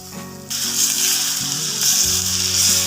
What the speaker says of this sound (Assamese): তাৰপিছত দালি ঢালি দিম